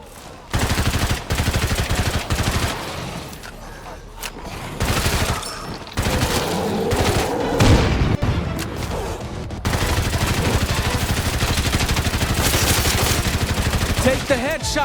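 Rapid bursts of gunfire from the zombie survival game State of Decay 2, loud and dense for most of the stretch with brief gaps, while a voice speaks now and then beneath the shots.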